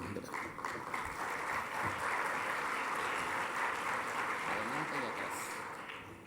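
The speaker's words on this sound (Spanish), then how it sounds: "les pido por favor que recibamos con un fuerte aplauso al doctor José Jardín" An audience gives strong applause to welcome a doctor taking the stage. The clapping is dense and continuous throughout, easing slightly at the close, with a brief voice sounding faintly near the end.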